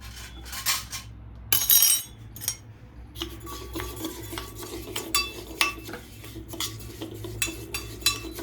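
A spoon scrapes and clinks in a steel bowl, stirring chili, salt, turmeric and oil into fenugreek with irregular rubbing strokes and knocks, close by, no talking.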